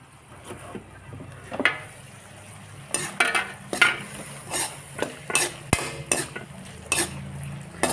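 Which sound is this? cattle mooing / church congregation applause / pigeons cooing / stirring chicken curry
stirring chicken curry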